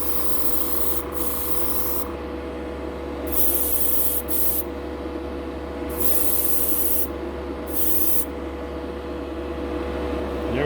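An airbrush sprays Gaahleri Kaleido Colorworks paint onto a model as a steady close hiss, cut by brief on-off breaks while the trigger is released, over a constant low hum.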